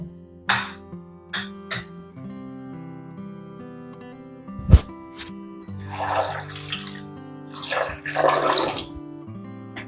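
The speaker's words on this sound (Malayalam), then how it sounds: "ഞാൻ ഇതിലേക്ക് കുറച്ചും കൂടെ വെള്ളം ഒഴിച്ച് വെക്കുന്നുണ്ട് കേട്ടോ" Water poured into rice flour being prepared for puttu in a home kitchen, heard as a few short splashy pours that build into a longer rushing pour near the end, with steady background music throughout.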